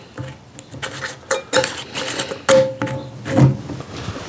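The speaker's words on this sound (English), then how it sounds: "And we'll put a lid on that." A lid goes onto a container of apple moonshine mash, heard as a run of close clinks, taps and knocks of metal and glass, irregular and fairly loud, with no voices.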